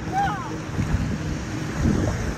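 Wake from passing boats washes onto a beach by a bridge, a low rolling surge of water mixed with wind buffeting the microphone, with voices faintly present.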